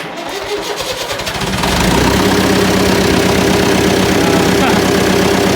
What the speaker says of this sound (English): Wow, that thing's fired right up.